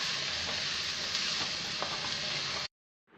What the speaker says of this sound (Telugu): తరువాత తరిగి పెట్టుకున్నటువంటి క్యాబేజ్ను వేసుకోవాలి. కలుపుతూ 2 మినిట్స్ వేయించుకోవాలి.